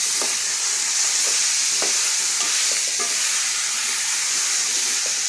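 Potato and fenugreek with turmeric and crushed red chili fry in a hot pan, giving a loud, steady sizzle throughout, with a few soft scrapes of stirring on top.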